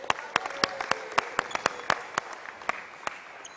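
A small group claps for a basketball player at a team defence practice: about a dozen sharp, separate hand claps in an irregular rhythm, close and moderately loud in a quiet gym.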